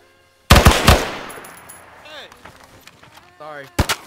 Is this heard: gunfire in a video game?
yes